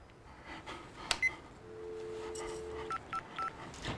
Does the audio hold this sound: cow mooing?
no